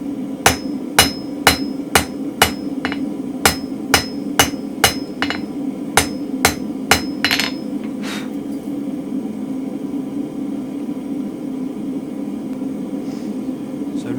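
Hammer blows squeeze mild steel in a spring fuller, about fifteen sharp, evenly spaced strikes close by, then they stop and a steady low hum carries on with faint background noise.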